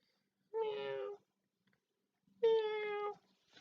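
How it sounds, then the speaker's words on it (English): A cat meows twice, separated by a short silence, with clear, close, mid-pitched drawn-out cries. "It's a cat."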